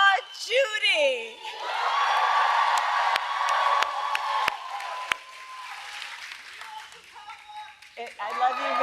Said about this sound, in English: can we please applaud Judy?